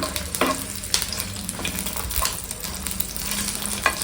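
Dried red chillies frying in oil on a low flame, a steady close sizzle with the occasional scrape of a stirring spoon and small pops, without talk.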